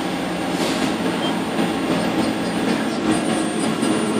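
A Mori Seiki NL1500SY CNC turning center with its spindle running produces a steady, loud, broadband machine whir and rumble that holds constant throughout, with no talk.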